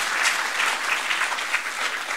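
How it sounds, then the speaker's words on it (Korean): Steady, dense applause from a church congregation at a revival prayer gathering, many hands clapping together in a continuous wash that holds level throughout with no voices over it. "박수 한번 쳐줘. 박수."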